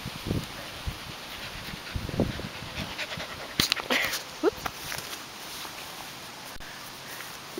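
A growing puppy pants softly and quickly nearby at a workplace, with light rustling and a few faint scuffs and taps around it.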